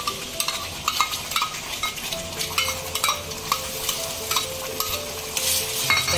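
Chicken curry masala paste frying in a pan while being stirred, a busy sizzle with repeated scraping and clinking of the spoon, close and continuous.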